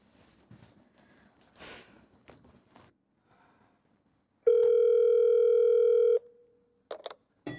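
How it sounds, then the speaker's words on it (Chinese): A steady telephone tone sounds loudly for under two seconds in a quiet office after a few soft rustles and footsteps, then cuts off abruptly. "我现在就打电话给温主任"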